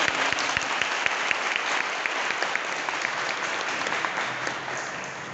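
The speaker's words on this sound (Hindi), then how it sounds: "एक बार जोरदार तालियों से आगे" An audience at a coaching-program gathering in Banda bursts into applause for a police Inspector General, K. Satyanarayana. A few sharp, distinct claps open before thickening into a dense, even round of clapping that carries on steadily.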